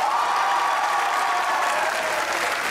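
A studio audience applauds on a Pakistani comedy talk show, a steady dense wash of clapping that holds at an even, fairly loud level throughout with no voices over it.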